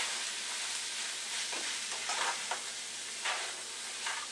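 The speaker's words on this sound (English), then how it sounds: "So, stir that around a little bit." Seasoned food sizzles steadily in a hot pan while it is stirred, with a constant frying hiss and occasional scraping bursts as it is moved around.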